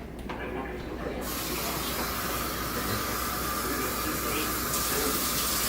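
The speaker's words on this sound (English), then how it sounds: "So first we're going to start with a little hot water." Hot water pours steadily for Greek loukoumades dough in a home kitchen, a continuous rushing splash lasting several seconds with no talking.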